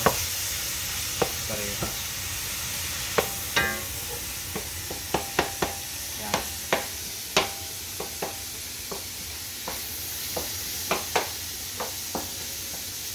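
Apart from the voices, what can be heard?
stirring pancit ingredients sizzling in a pan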